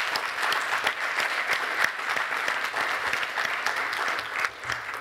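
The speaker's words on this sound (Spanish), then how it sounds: "Un fuerte aplauso de nuevo para ellos," An audience at an agricultural award ceremony claps steadily for about five seconds, a dense, even wash of many hands with no voices over it.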